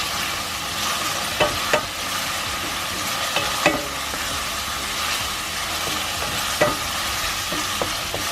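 Onions sauté in a pan as the base for risotto, a continuous close sizzle with regular scraping clicks from a spoon stirring them, no voices.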